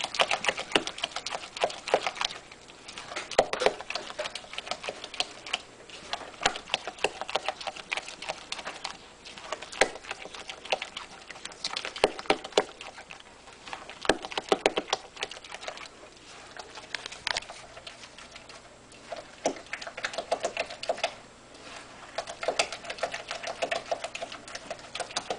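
Cake batter for a funny cake is beaten by hand with a spoon, giving fast, steady rhythmic tapping and scraping strokes, close and moderately quiet, with only brief pauses.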